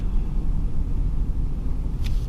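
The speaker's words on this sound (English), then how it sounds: "You can hear that diesel engine really good too." Ford F350 Powerstroke diesel truck with about 100k miles idling steadily, a constant low rumbling drone heard nearby, with a brief faint higher tick near the end.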